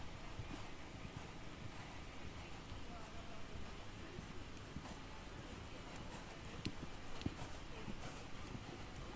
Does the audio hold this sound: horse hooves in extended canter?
yes